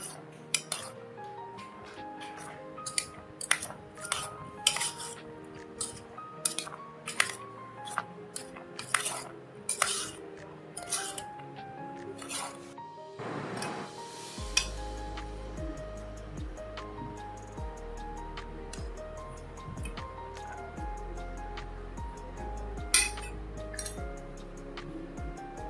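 Roasted peanut and green gram snack tossed with salt, pepper powder and Kashmiri chilli powder, heard as a run of sharp metallic clinks and scrapes of a spoon against a bowl, spaced unevenly, with a low hum underneath later.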